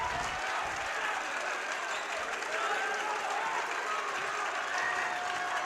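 Fans at a boys varsity high school basketball game cheer and applaud in a steady, loud sustained roar of clapping and crowd noise, with a faint voice underneath.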